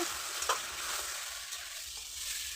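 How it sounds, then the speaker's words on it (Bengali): A curry with rohu fish roe and ash gourd sizzles steadily in a pan while being stirred, with soft scraping strokes over a continuous frying hiss. "এখন আমি তরকারিটাকে ধরে দিলাম নাড়িয়ে সারিয়ে"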